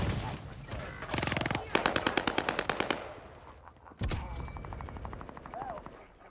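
Rapid automatic gunfire rattles in bursts in the video game Warzone, a close, loud string of evenly spaced shots followed by another volley, with speech mixed in.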